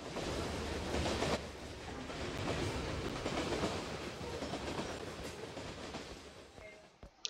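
A train runs in the video game Brick Rigs with a continuous, fairly quiet rumble and clatter of wheels on rails, ending in a brief sharp click.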